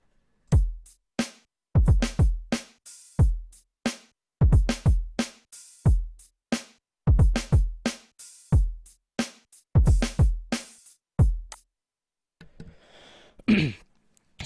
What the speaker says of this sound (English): So the full drums all together sound like this.